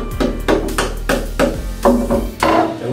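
A hammer taps a plastic wall plug into a drilled hole while fitting a cabinet bracket, giving about eight sharp, close knocks in an uneven rhythm over three seconds with no talk.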